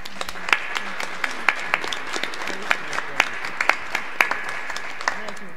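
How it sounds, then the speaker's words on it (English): An audience at a school board of education meeting applauds, a modest spread of distinct individual claps with sharp regular hand strikes over a soft background murmur. "I'd like the audience to give you a big round of applause"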